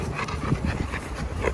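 A dog panting in quick, steady, rhythmic breaths, close and loud, during an obedience training session, with no talking over it.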